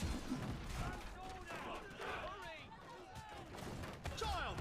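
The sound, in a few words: troops opening fire in Conqueror's Blade video game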